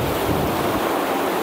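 Water of the Binasagan River in Camarines Sur rushes in a constant broad roar, close and loud, with a touch of wind buffeting the microphone and no voices.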